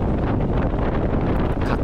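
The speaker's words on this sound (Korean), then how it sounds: "바람소리가 심상치 않네요." Strong wind roars steadily over the microphone at sea aboard a tuna fishing vessel, a dense, continuous buffeting with no voices.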